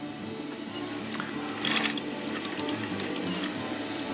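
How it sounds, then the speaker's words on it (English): A domestic sewing machine stitching PALS webbing in a straight front-and-back pattern, giving a steady close mechanical whirr with rapid needle ticking throughout and a slightly louder burst midway. "So you place the webbing and you start sewing."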